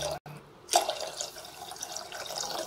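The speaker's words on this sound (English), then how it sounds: "I'm adding 2 glasses of water." Water being added to a pressure cooker pot holding moong dal and washed foxtail millets. A short clatter comes first, then a steady soft splash and trickle at close range.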